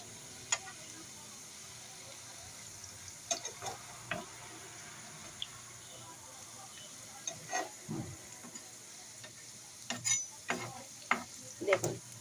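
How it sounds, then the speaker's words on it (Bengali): Bora fritters frying together in a single pan, a faint continuous sizzle of oil broken by sharp clicks and scrapes of a spatula as they are stirred and turned, with no speech. "এতে করে এক প্যানে অনেকগুলো বড়া একসঙ্গে ভাজা যায়।"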